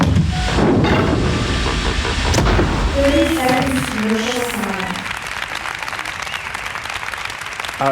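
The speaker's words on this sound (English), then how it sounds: "you don't have to put applause in now" Studio applause is brought in on a comedy television show, a loud wash of clapping that swells and then thins out while a voice speaks over part of it.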